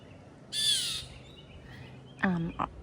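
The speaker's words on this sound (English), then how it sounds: "the birds may have even spotted him, and they could be scolding" Two sharp, harsh bird calls ring out, one short burst then a raspy chattering call, over a quiet outdoor background.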